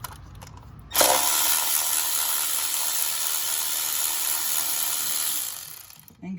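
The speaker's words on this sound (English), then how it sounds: "Let's put an 8mm on the ratchet and remove" A ratchet with an 8mm socket works an ignition coil bolt on a 2008 Ford Escape 3.0: after a few soft clicks, a loud continuous whirring rattle starts abruptly, holds steady for several seconds, then stops.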